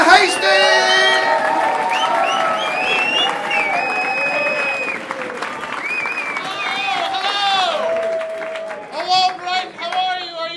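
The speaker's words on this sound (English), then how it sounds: "Keep it clapping, keep it going." A comedy club audience in Brighton claps and cheers steadily for a comedian's entrance, with a host's amplified voice talking over the ongoing applause throughout.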